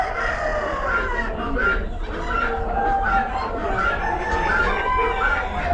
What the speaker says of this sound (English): got some roosters.